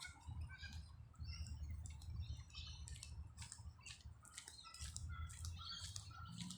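Birds in a suburban park in Maryland, Sydney, giving faint scattered chirps, squawks and wing flutters over a low ambient rumble.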